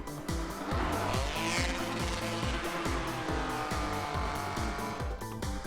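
A stunt car driven by Terry Grant drifts hard at an Audi DTM event in Munich, its engine roaring continuously with pulsing revs as the tires squeal and skid, loud and close throughout.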